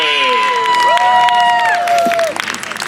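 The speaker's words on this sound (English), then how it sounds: "Please give yourself a round of applause for just coming out today." Festival crowd at the National Cherry Blossom Festival's Sakura Matsuri Japanese street fair in Washington, D.C., applauding and cheering loudly, with high sustained whoops and shouts over dense clapping that tapers toward the end.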